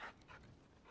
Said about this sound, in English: Such a good dog.